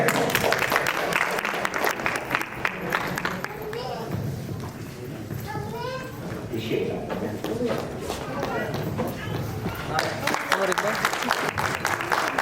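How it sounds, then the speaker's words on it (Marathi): Award ceremony audience applauds steadily as an honoree is called to the stage, dense clapping running throughout, with an announcer's voice over it. "सुशांत राजेंद्र जगताप सरांसाठी जोरदार टाळ्या."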